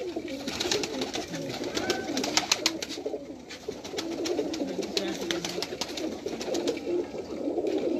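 Pigeons coo in soft, overlapping low calls at a loft, with repeated wing flutters and shuffling throughout, fairly close and continuous.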